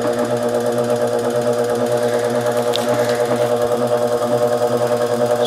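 Electric motor driving an 8-frame wooden honey extractor at low speed hums steadily with a fine rhythmic mechanical pulse and faint rattle, close and continuous, no voices.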